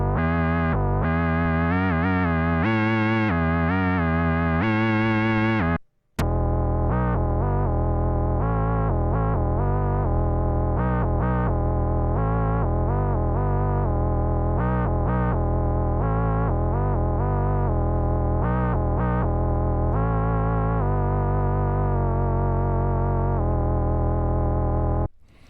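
Sync Bender Mod 4 preset on Model Pro, an emulation of the Moog Prodigy monophonic analog synthesizer, giving a buzzy, distorted sync lead in stepping note lines, loud and continuous apart from a brief dropout near six seconds.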